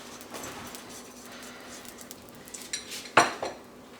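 Brushing oil across a hot pan before frying Kerala porotta: soft scraping strokes near the mic, then a louder metallic clink and rattle of the brush or utensil against the pan near the end, no talking.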